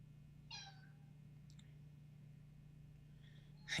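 A house cat meows once clearly and close, then gives fainter short calls later over a steady electrical hum, with a sudden louder noise at the very end.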